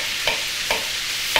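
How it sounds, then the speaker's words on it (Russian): Duck pieces fry in a pan with a constant hiss of sizzling fat, broken by three soft stirring scrapes, close up with no voices. "Пока у нас утка обжаривается"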